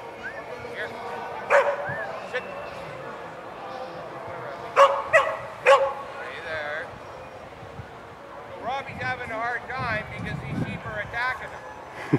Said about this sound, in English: So he's barking at him and keeping his distance